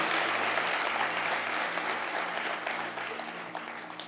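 Indoor church audience applauding steadily and loudly throughout, a dense wash of clapping that tapers slightly toward the end.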